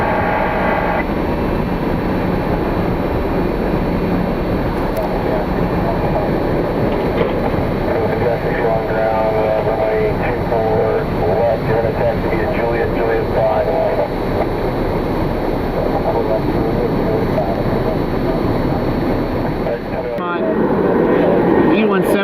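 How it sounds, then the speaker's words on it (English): A Boeing 737 jet taking off from Cleveland Hopkins International Airport on a winter day, its engines giving a broad, steady roar heard from a distance across the airfield, with a commentator talking over much of it. "216 is on its takeoff roller heading to Denver this afternoon. On the Boeing 737."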